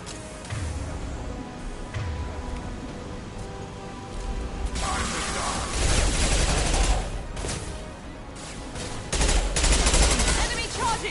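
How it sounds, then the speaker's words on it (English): Sustained gunfire in a Mass Effect 2 firefight, dense bursts and rattling volleys with heavier booms partway through, loud and continuous, with game voices calling out over the shooting. "Firing now."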